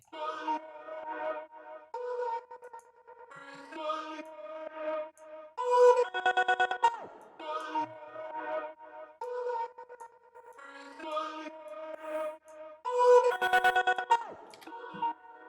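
A looping electronic musical phrase with harsh, buzzy distortion, repeating in bursts with louder, crunchier peaks every few seconds.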